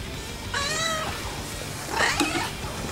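Cat meowing twice at close range, a drawn-out wavering meow followed by a shorter second call, over faint indoor background noise.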